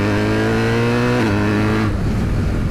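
Loud BMW R 1300 GS motorcycle exhaust, a Van Demon system, revs up and holds, then the tone breaks off into a sputtering, popping rumble as the throttle closes.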